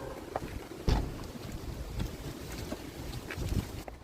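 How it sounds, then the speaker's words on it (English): Strong wind buffeting the microphone in continuous rumbling gusts, loud and close, with no voices. "it's so windy"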